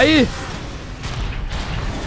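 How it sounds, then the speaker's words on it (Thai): A blast goes off in the Transformers: Fall of Cybertron video game, a short booming burst at the start that fades into a rumble under excited talking. "ระเบิด ตูม"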